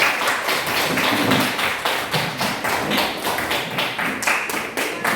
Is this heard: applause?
yes